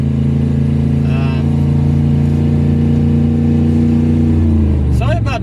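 A car that needs transmission fluid drones with a steady low engine hum while being driven along a rural island route. The noise is loud and continuous, with a faint higher whine at the start and a brief rising sweep near the end.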